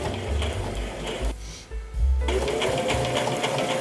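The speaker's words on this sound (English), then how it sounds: "I'm just gonna do a straight stitch and I'm just going to try to keep it like folded under." A sewing machine runs a straight stitch in fast, steady bursts of whirring and needle clatter close by. It pauses briefly before running again, with no talk over it.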